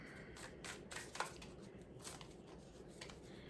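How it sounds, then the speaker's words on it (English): A deck of oracle cards is shuffled quietly at close range: soft papery riffles and flicks in several short bursts, faint and intimate, with no speech. "I don't really ever shuffle them like this"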